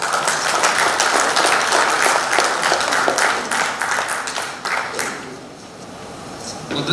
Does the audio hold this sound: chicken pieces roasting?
no